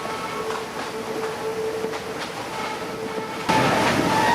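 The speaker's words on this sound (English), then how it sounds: "There you see part of the train going around this curve." A vintage 1940s train on the Hiawassee River scenic railroad rolls steadily along the rails around a curve with rhythmic clicks and a low rumble, growing a bit louder and rougher near the end.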